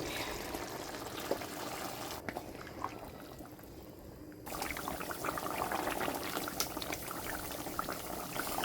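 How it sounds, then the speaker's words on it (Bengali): Hot water poured into a fish curry in a cooking pot gives a continuous close rush and bubbling of liquid, briefly easing off before resuming steadily. "এবার দিয়ে দেব গরম জল।"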